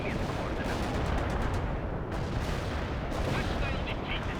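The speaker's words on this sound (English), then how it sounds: "I'm pretty sure I hit my own allies a whole bunch of artillery strikes there" Artillery strikes in World in Conflict, a dense continuous roar of blasts and crackling detonations at steady high level, with a voice talking underneath the barrage.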